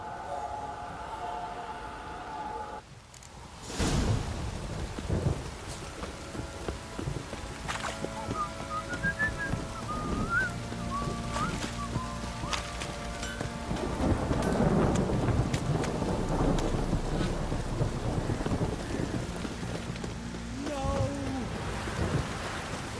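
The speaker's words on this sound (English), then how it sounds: "This downpour's a bastard, it is." Steady heavy rain in The Witcher 3: Wild Hunt hisses throughout with low rumbling thunder rolling underneath, loud and constant, with faint whistling tones drifting over the downpour.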